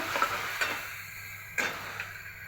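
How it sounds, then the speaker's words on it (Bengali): Spice paste of ginger-garlic, turmeric and chili powder fries in a pan for a taki fish curry, a faint soft sizzle broken by a few brief scraping stirs. "এখন মশলাটা আমি ভালো মতো ভেজে নেব"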